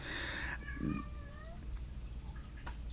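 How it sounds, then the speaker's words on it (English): Cats meowing in a home workshop, a few drawn-out mews in the first second and a half over a steady low hum, moderately close but not loud. "The cats are meowing."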